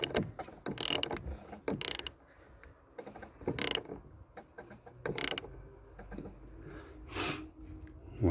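Wrench lightly tightening the nut on a car's front shock absorber during mounting, heard as a run of close metallic ratchet clicks in short bursts with quieter pauses between them.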